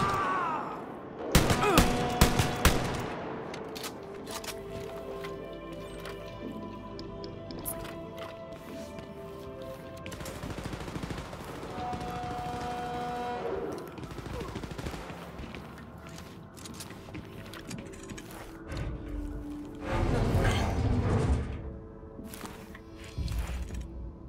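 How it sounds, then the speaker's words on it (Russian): A shotgun fires in the shooter Wolfenstein Youngblood with a few heavy blasts, loudest near the start and again toward the end, set among clanks, rumbling action noise and a tonal game score. "Что за пушка? Дробаш."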